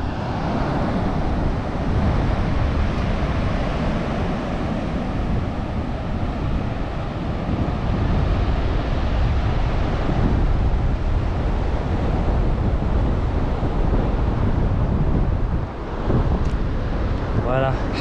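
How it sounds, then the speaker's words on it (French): Strong wind buffeting the microphone outdoors on the road toward the Moroccan Sahara, a loud continuous roar that covers the whole stretch, with speech faint or buried under it. "le vent est un peu fort"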